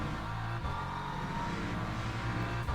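A BMW M4 GT3 race car engine drones loudly and steadily at Monza in a racing game, holding a constant rev with a brief dip, close and continuous with no voices.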